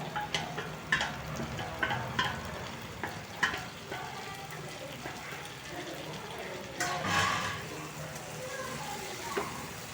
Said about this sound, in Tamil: அந்த சிக்கனை சேர்த்து அந்த மசாலா கூட நல்லா ஒன்று விரவி விடுங்க